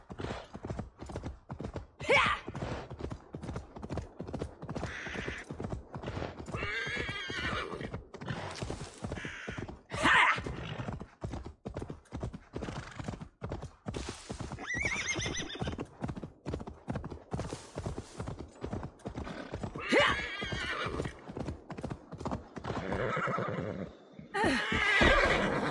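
Horse in the Assassin's Creed Valhalla video game, with steady clip-clopping hooves throughout and several loud neighs and whinnies rising over the rhythm, plus faint creaks in the background.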